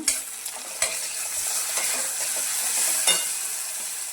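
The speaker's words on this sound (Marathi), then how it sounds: "कांदा पूर्णपणे ब्राऊन झालेला आहे तर त्याच्यामध्ये कढीपत्ता टाकून घेऊया" Curry leaves hit browned onions frying for tomato chutney, setting off a bright, steady sizzle with a few sharp crackles and spoon scrapes, close and continuous with no talking.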